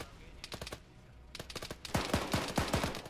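Gunfire in the military video game Arma 3: several short bursts of sharp, rapid shots. They come close together and grow louder and denser toward the end.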